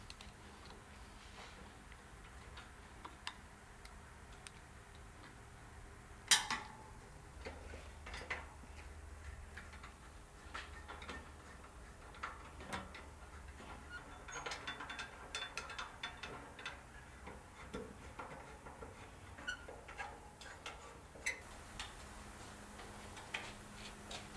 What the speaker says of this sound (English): we'll start tightening all the screws.